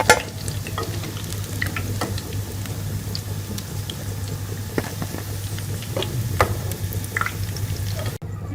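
Chicken pieces for Chicken 65 frying in hot oil in a pan, a steady close sizzle with scattered pops and crackles running the whole time, a low hum beneath, and no talking.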